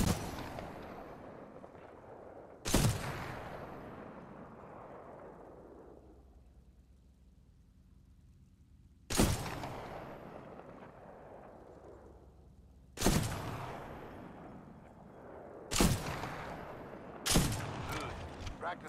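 Weapon fire in the Titanfall 2 Gauntlet training course: five loud, sharp shots spaced a few seconds apart, each ringing out with a long decaying echo into near silence before the next, with no one talking.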